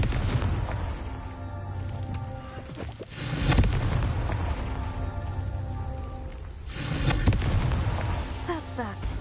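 Confringo blasting spell going off twice in Hogwarts Legacy, each a loud booming burst with a rumbling tail, over a steady rain-like game ambience and a low musical bed.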